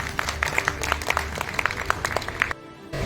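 An audience at a seminar in Lucknow applauds to welcome a speaker, a brisk run of individual claps from a modest crowd that stops abruptly near the end.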